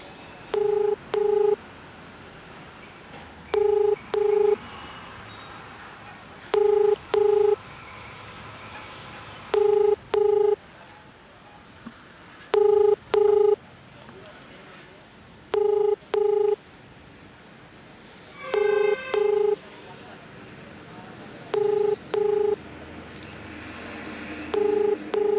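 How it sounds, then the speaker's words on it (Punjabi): A phone call is placed and rings unanswered, repeating double ring tones in a steady rhythm about every three seconds over quiet background noise, with one louder, different tone burst midway. "ਆਪਾਂ ਉਹਨਾਂ ਦੇ ਨਾਲ ਜਿਹੜਾ ਫੋਨ ਤੇ ਉੱਪਰ ਗੱਲ ਕਰਨ ਦੀ ਜਿਹੜੀ ਕੋਸ਼ਿਸ਼ ਕਰਦੇ ਹਾਂ"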